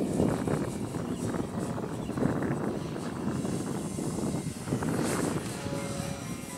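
A model airplane flies at an RC flying field, its engine or propeller drone steady and moderately loud throughout, with wind noise and faint voices underneath.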